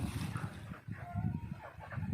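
Laying hens and chickens in a morning coop cluck and mutter in a busy, close flock, with overlapping calls and bursts throughout and no talking.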